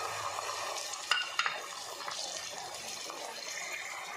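Tomatoes and powdered spices (salt, garam masala, turmeric, dried coriander, red chili) sizzle and are stirred in a pan for a mixed vegetable curry, giving a steady low frying hiss with a few brief scraping clicks near the start and no talk.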